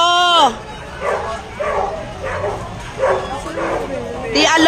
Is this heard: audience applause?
no